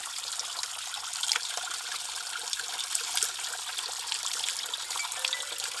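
Fresh water trickles from a natural hillside tap beside a shrine amid farmland, a steady close splashing and burbling stream with no voices over it.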